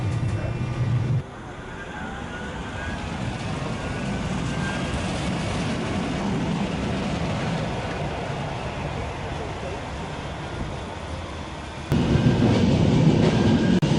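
Manchester Metrolink tram on the Trafford Park Line rolling toward Cornbrook: a steady, close rumble of wheels on rail with faint rhythmic clicks, louder at the start and again near the end, carrying on throughout the run.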